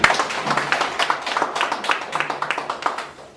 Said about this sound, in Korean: 우리 한번 박수 한번 좀 부탁드리겠습니다.